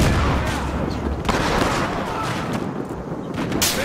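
Dense, sustained gunfire and distant blasts fill a 64-player Conquest match in the video game Battlefield Hardline, a steady roar of shots with occasional louder cracks and faint voice chat underneath.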